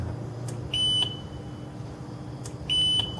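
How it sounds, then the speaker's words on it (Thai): Two short, high-pitched electronic beeps about two seconds apart from a countdown timer display reaching zero, over a faint background hum. "แล้วก็จะปิ๊บสองครั้งแล้วก็ เสียงปิ๊บสองครั้ง"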